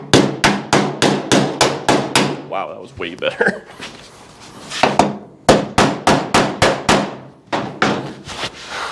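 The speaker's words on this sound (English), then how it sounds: "it turns out this is the right hammer" A hammer raps repeatedly on the metal body of a 1955 Chevy Nomad during dent work, sharp rhythmic bursts of rapid strikes separated by a pause where a voice speaks briefly before the hammering resumes.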